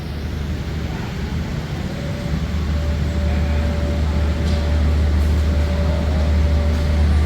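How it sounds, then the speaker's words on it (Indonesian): The Jayabaya passenger train pulls out of Surabaya Gubeng station toward Pasar Turi, a steady low rumble that grows a little louder, with a thin sustained tone running over the heavy rolling noise. "Nah ini diberangkatkan kembali kereta api Jayabaya dari stasiun Surabaya Gubeng menuju stasiun Surabaya Pasar Turi."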